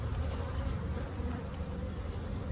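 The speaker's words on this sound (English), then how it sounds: "It's got plenty of bees in it." Dense, steady buzzing of many honey bees close by inside a hive, a continuous low hum with no voices.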